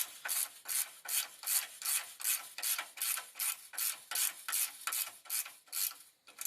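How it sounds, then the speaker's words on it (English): A bolt on a Nissan Frontier's torsion bar suspension is tightened with a ratchet, giving steady rhythmic rasping clicks in about sixteen even strokes, close and moderately loud with no talk. "So once we have this bolt snug, we just want to tighten down on it."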